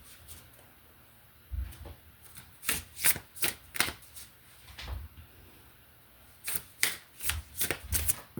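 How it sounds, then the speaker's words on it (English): Spellcaster Oracle cards are shuffled up close in two clusters of crisp riffling snaps and slides, loud and rhythmic against a quiet room. "So let's get a couple more cards from the Spellcaster Oracle."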